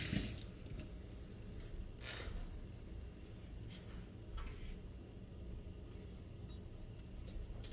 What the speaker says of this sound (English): Let me dry my hands, wash my hands.